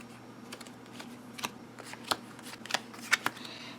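Lenormand cards are shuffled and laid out on a table in a series of soft slaps and flicks, sharper snaps clustering toward the end over a low steady hum, with no talking.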